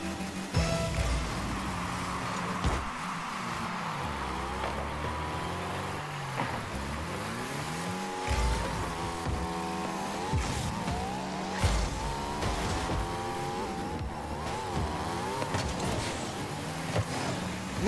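Rocket League cars driving across the arena, with engine drone, sliding tire squeals and boost whooshes continuing steadily throughout, no speech over them.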